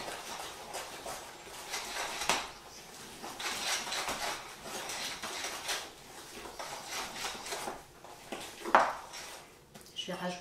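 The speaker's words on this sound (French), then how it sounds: "Je vais incorporer d'abord une grosse cuillère de blanc de neige" A spoon folds beaten egg whites into Black Forest cake batter, with soft scraping and occasional clinks against the bowl, quiet and irregular, and a voice faintly audible at times.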